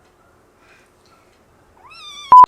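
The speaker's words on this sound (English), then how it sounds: "So he's only about 8 weeks old, but he's going to be our new kitty." An eight-week-old ginger kitten gives one rising meow close by, loud against near silence, and a brief sharp knock follows at the end.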